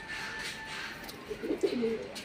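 Pigeons coo softly in a loft, a few low burbling calls rising near the end of the clip over a quiet background, with little else heard.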